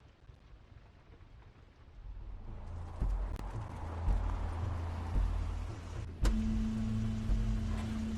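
Crane's car in the video game The Wolf Among Us: a low engine rumble that builds after a few seconds and holds steady, with a sharp thud midway followed by a sustained hum, alone without talk.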